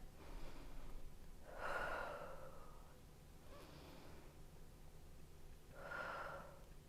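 During a yoga pose, slow deep breaths come close and soft, two broad inhale-exhale swells spaced several seconds apart over a quiet room hiss.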